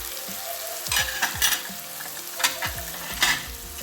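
Cloves, cinnamon, cardamom and other spices sizzle in a pan for a Kerala beef curry while a spoon stirs them, with scattered scraping knocks over a constant frying hiss and no talking.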